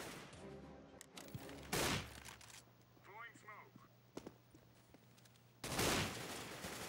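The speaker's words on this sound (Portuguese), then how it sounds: "Ficar dando tiro aqui de costa." CS:GO gameplay gunfire comes in loud bursts at the start and end. Rapid shots and game effects sound between them, with spoken voices over the action.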